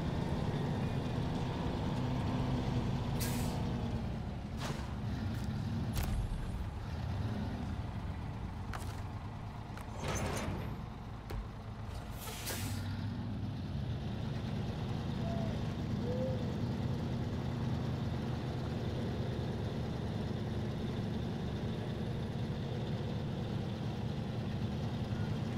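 A truck engine in SnowRunner straining to pull a heavy trailer, a steady low rumbling drone held throughout with a few brief sharp clanks and hisses early on, no talk heard.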